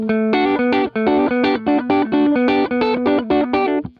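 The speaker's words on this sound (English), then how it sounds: "where you can do this thing called chicken picking, which is playing some really cool stuff." A twangy electric guitar plays a quick run of short, snappy chicken-picked notes with a bright, clucking pick attack, loud and close, with no talking.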